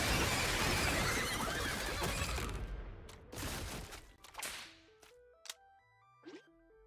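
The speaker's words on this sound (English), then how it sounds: "Fuck those duck-sized horses up." Duck-sized horses in a video game whinny loudly at close range, followed by sharp whip-like cracks and short electronic blips as the noise thins out.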